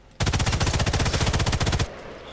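Automatic gunfire in the Sniper Elite 5 video game rattles off as a rapid, loud, continuous burst of about two seconds, then stops abruptly into a quiet background.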